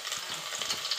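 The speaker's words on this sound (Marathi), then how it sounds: "कांदा घातलेला आहे तेलामध्ये फोडणीसाठी" Onion and garlic sputter in oil for tempering, cooked over a wood-fired stove, giving a brief, steady crackling sizzle close up with light stirring.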